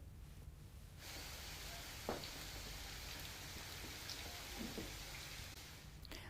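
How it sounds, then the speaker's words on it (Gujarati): Steady, gentle rain in Dhoraji, Rajkot during the monsoon forms an even wash of hiss throughout, with a few faint nearby taps and thumps and no voices. "ધીમે ધારે વરસાદ વરસી રહ્યો છે"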